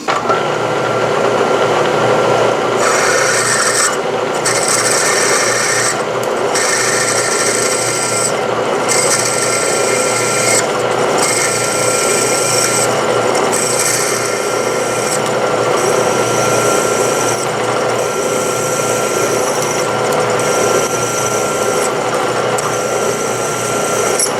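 Continuous grinding whir of a 5/16-inch tap drill cutting into a Wheel Horse front axle, with a high raspy tone that cuts out briefly at regular intervals.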